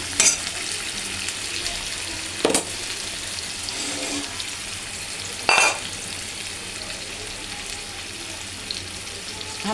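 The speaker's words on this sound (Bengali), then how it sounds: "আর আস্তে আস্তে ভাজা হোক" Katla fish pieces marinated and frying in mustard oil, a constant close crackling sizzle broken by two sharper bursts as the pan or pieces are disturbed.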